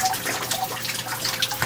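Water drips and trickles in a tropical greenhouse drip irrigation setup, a steady close splashing wash with small irregular drops throughout, continuous and moderately loud with no voices.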